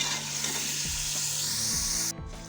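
Ginger-garlic paste sizzles hard in hot ghee with chicken for a chicken pumpkin gravy, a loud, steady hiss with a few soft stirring knocks that cuts off sharply near the end.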